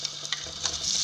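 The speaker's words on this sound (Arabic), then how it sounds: "نحط غير البيطراف ونبدا نقلي فيه" Beetroot frying in olive oil in a pan, a steady close sizzle and crackle with small bursts of spatter, no voices.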